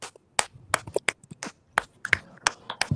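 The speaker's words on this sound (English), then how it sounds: "Smacking a bottle." A bottle is smacked by hand, giving a run of sharp, close slaps and pops in an uneven rhythm with short gaps between them, and no talking over it.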